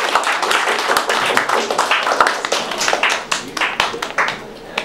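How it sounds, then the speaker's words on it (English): An audience at a stand-up comedy show applauds a comedian, a dense spell of clapping with sharp individual claps poking through. "Let's give another round of applause."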